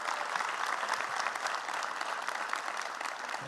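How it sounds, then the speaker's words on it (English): Audience applause at a fire department recruit academy graduation ceremony, a dense, steady wash of clapping from a large crowd that holds an even level for the whole stretch. "One more round of applause for Chief McDonald"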